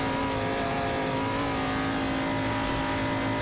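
A 500 BHP Shelby Cobra racing around the Nordschleife, its engine a loud, steady, close droning roar held at high revs with no pause.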